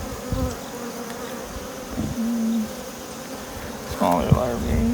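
Honeybees drone and buzz steadily in an opened hive during an inspection of brood, larvae and eggs, with several louder passes of bees flying close by.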